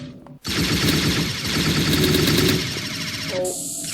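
Rapid automatic gunfire from a weapon in the Unity FPS Microgame shooter, a loud continuous burst of shots lasting about three seconds before cutting off.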